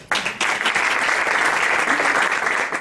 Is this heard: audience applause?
yes